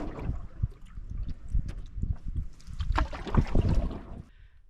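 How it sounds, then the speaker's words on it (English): Solo canoe paddled along a lake shoreline on an April day: close, uneven paddle strokes and splashes against the hull, with light wind buffeting the microphone. "I just paddling the shoreline"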